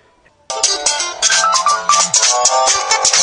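A phone ringtone starts suddenly after a brief quiet moment and plays loudly and steadily, a bright repeating melodic ring for an incoming call.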